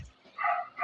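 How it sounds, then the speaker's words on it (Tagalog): A neighbour's dog barks outside, one short muffled yip followed by the start of another, faint and at a distance. "Maingay yung aso sa labas. Maingay aso sa kapitbahay."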